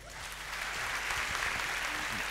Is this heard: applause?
yes